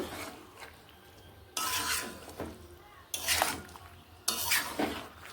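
Mixed vegetables salted in a pot are stirred in three distinct bursts of scraping and clinking with a spoon, with quieter pauses between each round.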